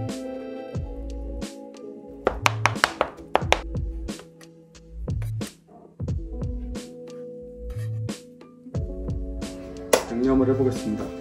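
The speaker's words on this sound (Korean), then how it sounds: "그냥 칼로 쫑쫑 다져주세요" A knife chops and minces shrimp meat on a cutting board in quick rhythmic taps and knocks, heard under a voice talking throughout.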